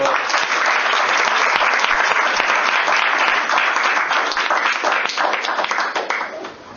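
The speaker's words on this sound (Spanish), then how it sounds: "Un aplauso." An audience at an academic colloquium breaks into steady, loud applause that holds evenly for several seconds and thins slightly at the end, with faint voices mixed in.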